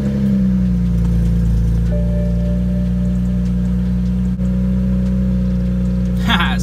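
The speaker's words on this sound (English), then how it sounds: "Go ahead and fire up your car and sadly drive it away." BMW car engine running steadily and loud throughout, a continuous idle or driving drone with a brief sharper burst near the end.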